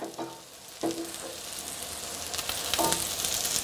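Cabbage hashbrowns fry quietly in a pan, a soft continuous sizzle broken by a few brief scraping and clattering bursts as they are turned, with no talking.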